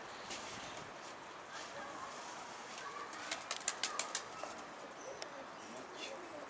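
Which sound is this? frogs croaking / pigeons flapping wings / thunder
pigeons flapping wings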